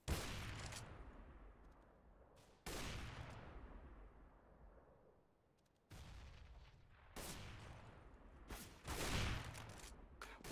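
Warm-up gunfire in Counter-Strike on the Dust 2 map, heard as several separate bursts of shots, each ringing out and fading, at a moderate level with no talk over them.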